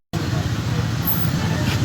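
Street traffic at Madni Chowk in Attock, a continuous low rumble of passing cars and other vehicles that starts abruptly and stays steady and moderately close, with a brief high tone partway through.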